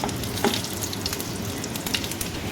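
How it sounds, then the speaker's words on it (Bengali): Dried chillies, bay leaves, radhuni and cumin sizzling in hot oil in a kadai, a close, steady crackling fry with small pops and a light stir, no voices. "তেল দিয়ে এর মধ্যে শুকনো লঙ্কা, তেজপাতা, রাঁধুনি ও জিরেটা দিয়ে দেব।"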